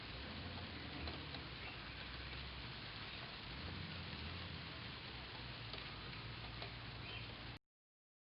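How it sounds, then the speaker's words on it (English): Evening rain falling steadily, a continuous even hiss of drops with no break in intensity, stopping abruptly just before the end. "it begins to rain"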